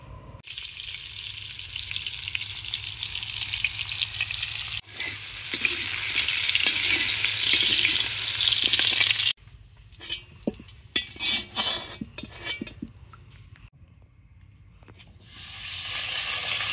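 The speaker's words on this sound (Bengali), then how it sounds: "কড়াইটা এবার বসিয়ে নেবো আমরা, মুগ ডাল ভাজাভাজি হবে" Moong dal dry-frying in a wok for khichuri, loud continuous hiss and rattle of grains that drops midway into choppy scraping and stirring clatter, then swells again toward the end.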